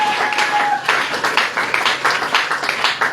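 Church congregation applauding and cheering at a French-language worship service, a steady dense wash of clapping with rising bursts over about three seconds, a brief sustained tone early on.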